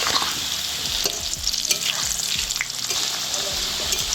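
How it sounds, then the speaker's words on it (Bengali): Potato pieces sizzle steadily in hot oil dusted with turmeric powder, a dense continuous crackle with occasional stirring scrapes and no talking. "আলুগুলো এবারে ভেজে নেব।"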